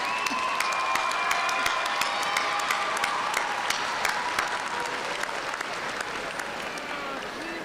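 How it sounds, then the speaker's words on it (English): A large commencement crowd at Southern University gives the faculty sustained applause, a dense, even wash of clapping with scattered cheers throughout. "Please give them a round of applause."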